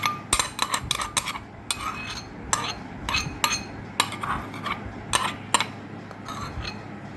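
A metal spoon mashes boiled egg yolk in a bowl, giving a series of sharp irregular clinks and taps against the dish with quieter scraping between, close and alone.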